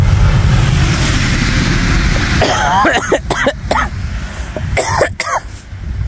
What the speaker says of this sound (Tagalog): yung ubo ko ay seasonal